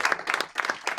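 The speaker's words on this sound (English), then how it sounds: "So first of all, an applause for all of you with the panelists." Short burst of clapping from a conference audience at a women-in-tech panel, a few uneven rounds of hands close by, moderately loud and brief.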